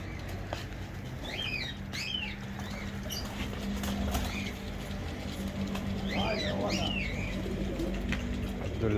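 Pigeons coo in a low steady drone while other caged birds chirp and whistle in short bursts over it, a busy indoor aviary setting.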